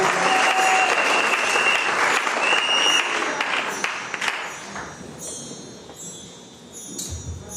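A church congregation at a Sunday worship service claps loudly and cheers, dense applause that thins and fades toward the end, with faint voices underneath.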